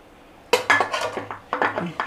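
Metal pressure cooker lid and pot clanking in a home kitchen while toor dal is set to cook for Udupi sambar; a series of sharp clinks and knocks in quick bursts, close by.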